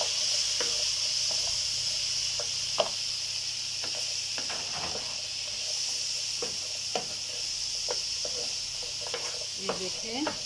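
Carrots fry with spices in a pan, a steady soft sizzle running throughout with scattered light clicks and stirring taps, moderately close and fairly quiet.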